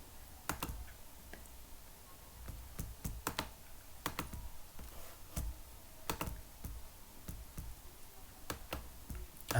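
Irregular bursts of keyboard typing, sharp clicks coming in quick clusters with short pauses, close and fairly quiet, no voices.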